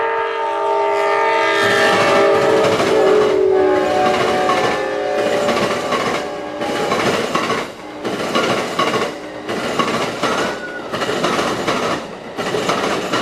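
Freight train PO 9113 coming downhill from Lakeland toward the Plant City interlocking sounds a loud, sustained horn and then rolls by close up with rhythmic clickety-clack of wheels over rail joints.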